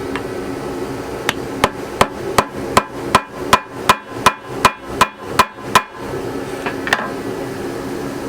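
Metal taps ring out in a steady series, about a dozen sharp hammer strikes on a screwdriver spaced evenly, then a pause and a couple of lighter knocks, while working on a 1995 Yamaha WaveRunner.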